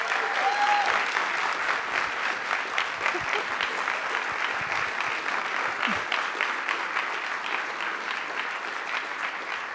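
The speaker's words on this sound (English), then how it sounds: "a big round of applause and a big thank you" A conference audience at a closing session breaks into long, dense applause, a steady wash of many hands clapping that holds evenly for about ten seconds with no speech over it.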